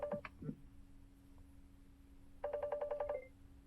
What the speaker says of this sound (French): Donc là j'ai reçu un appel